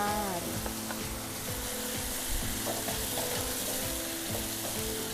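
Holy basil leaves hit minced pork already frying in a pan, giving a steady close sizzle with rhythmic spatula stirring and scraping throughout, no talking.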